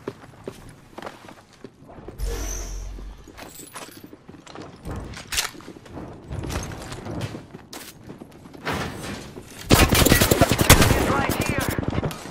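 Video game gunfire in a squad shooter, with bursts of automatic shots and single cracks scattered throughout and a loud sustained volley near the end, mixed with footsteps and voices talking.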